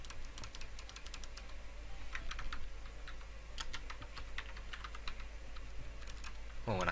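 Quick, irregular keystrokes tap on a computer keyboard during a strategy game session, faint and close against a low steady hum, in bursts with short pauses and a rougher clatter at the very end.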